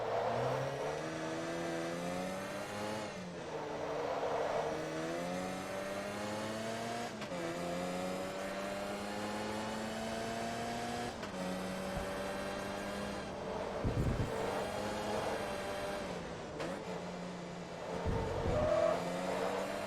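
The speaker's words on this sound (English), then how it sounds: "as you can clearly hear, a very raspy engine from the exhaust" A Mazda Savanna in Forza Motorsport 2 races with a raspy, buzzing exhaust note, engine revving up and down through gear changes for the whole stretch, with occasional tire scrubs and no talk.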